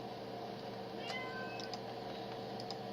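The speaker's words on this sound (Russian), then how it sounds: "Извините, за меня просто кошка мяукает" An indoor domestic cat meows faintly a couple of times in the background, short rising and falling calls over a quiet room hum, with no talking.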